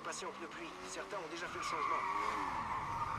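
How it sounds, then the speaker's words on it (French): Tires skid and squeal as a car drifts on a wet track in a racing game run on dry tyres in the rain, a long screeching slide under engine roar, with a voice talking over it. "ça laisse l'occasion de faire des dépassements en driftant genre"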